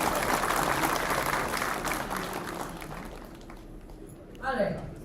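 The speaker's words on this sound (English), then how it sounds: "Let's everybody give a round of applause please," Conference audience applauds at the opening keynote of a tech event, broad clapping loud at first and fading toward the end as a voice speaks over it.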